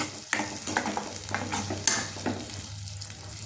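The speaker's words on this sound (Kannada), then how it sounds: "ಸ್ವಲ್ಪ ಚೆನ್ನಾಗಿ ಕುದಿಲದು ನೋಡಿ, ಈ ರೀತಿ ಕುದೀತಾ ಇದೆ" Ground masala paste with garam masala bubbles and sizzles in a pan for a home-cooked brinjal palya, a steady frying crackle broken by scraping stirs and soft pops.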